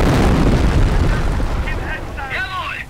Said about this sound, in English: Continue to barrage the enemy squad until they are defeated.